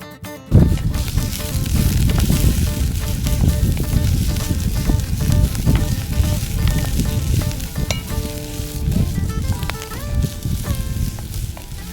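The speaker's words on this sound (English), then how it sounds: "I put a little bit of olive oil on the bottom and then added my onions" Onions sizzle in olive oil at the bottom of a heated pot, a steady, close crackling hiss that starts abruptly and holds for the whole stretch, with occasional stirring clatter.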